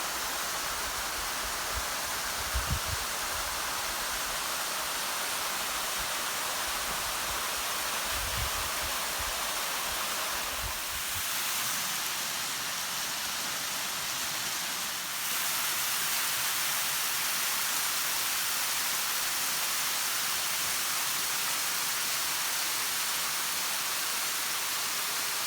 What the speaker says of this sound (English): So I think this is our last waterfall for the day.